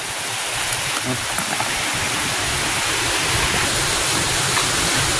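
A waterfall at Lamba Falls in Banga, South Cotabato, pours in a steady, dense roar of rushing water that fills the whole clip without letup.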